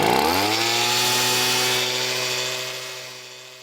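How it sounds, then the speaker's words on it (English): A leaf blower motor starts and revs up to a loud, steady whine with strong buzzing harmonics, holding close and constant before easing off slightly toward the end, with no voices. "The leaf blower is one of the most hated objects in the modern world."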